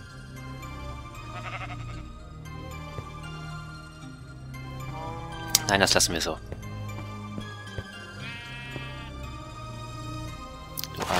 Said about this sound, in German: Du arme Schaf.